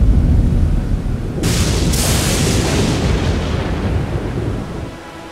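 Cold, ceaseless wind sweeps across the high, mist-covered Storm Hill plateau outside Stormveil Castle in Elden Ring. A low, constant roar swells into a sudden louder gust, then rushes on steadily before easing off at the end.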